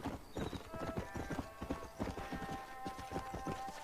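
Hooves of a horse in Red Dead Redemption clip-clop in a quick, steady walking rhythm, fairly close and clear, with faint game ambience and soft tonal sounds behind them.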